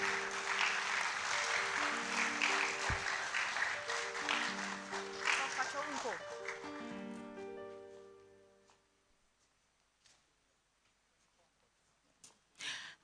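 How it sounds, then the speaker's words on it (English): Audience applause at a university inaugural lecture, a loud broad wash of clapping with a musical tone layered underneath, then fading away to near silence with a couple of late isolated sounds. "Another round of applause for our speaker."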